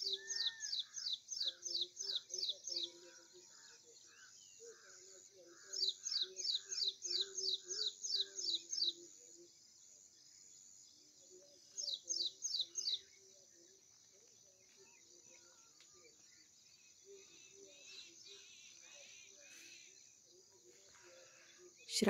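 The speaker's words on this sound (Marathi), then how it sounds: "तिथेच मोरांचा केकारव आपल्याला ऐकायला येतो" Peacock calls ring out among birdsong in a chikoo orchard, with repeated bursts of rapid chirping separated by pauses and a faint insect buzz behind them, all fairly distant and soft.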